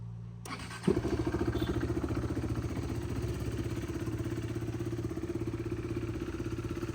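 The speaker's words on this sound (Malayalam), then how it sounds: "ജസ്റ്റ് നമുക്ക് വണ്ടി ഒന്ന് സ്റ്റാർട്ട് ചെയ്യാവേ" A KTM RC 390 sport motorcycle cranks briefly and fires up, then settles into a steady, close, rhythmic single-cylinder idle with a slight clatter that continues throughout.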